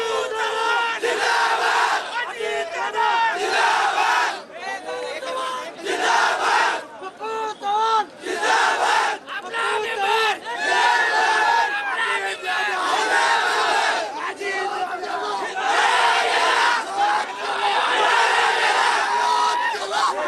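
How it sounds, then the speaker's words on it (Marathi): A loud crowd of party workers cheers and shouts continuously at the Baramati municipal council after local election results, with whoops and chanting voices layered over each other throughout. "बारामती नगर परिषदेत मोठा जल्लोष कार्यकर्त्यांकडून केला जातोय"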